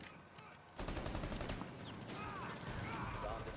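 Rapid bursts of gunfire in Rainbow Six Siege during a bomb-defusal round, dense and continuous over a steady game backdrop after a quieter opening.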